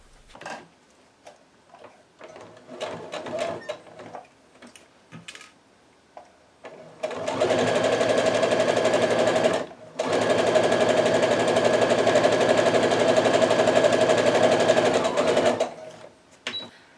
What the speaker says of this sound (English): So we'll get that pinned up and sewn together.